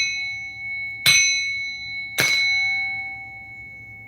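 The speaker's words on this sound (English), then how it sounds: "I'm going to ring this bell" A hand bell struck twice about a second apart, each strike a bright ringing clang that decays slowly with a sustained metallic tone, close and alone in a quiet room.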